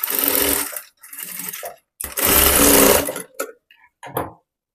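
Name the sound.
sewing machine stitching a fabric strip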